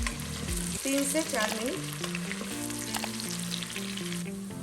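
Chopped onions and roughly chopped green chillies frying in an Instant Pot, a steady close sizzle with stirring scrapes, while someone speaks briefly over the sound and faint music plays underneath.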